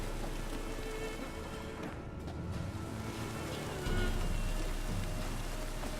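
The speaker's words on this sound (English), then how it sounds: "Looks like rain." Steady rain falls in a dense, continuous hiss that fills the whole stretch, with a low rumbling undertone rising slightly near the end and no voices.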